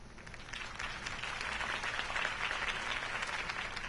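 A crowd applauds continuously in the Telltale Batman video game, a thick, even roar of many hands clapping that stays steady from start to finish.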